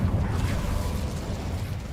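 Incendio fire spell cast in the Hogwarts Legacy video game, a dense, roaring burst of flame with a low rumbling body that holds steady for two seconds, with no talking.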